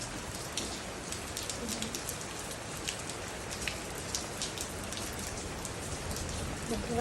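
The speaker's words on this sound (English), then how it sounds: "it's a thunderstorm that came through." Steady thunderstorm rain in Southern California falls hard and continuously, a dense hiss of drops pattering on surfaces close by, with no voices and no distinct thunder.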